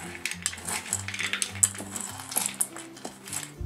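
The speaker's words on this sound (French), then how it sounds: "je vais bien mélanger le tout" Candied fruit, cherries, raisins, dried cranberries and walnuts tossed together in a bowl, giving close, repeated light clinks and taps of a utensil against the bowl in an uneven rhythm.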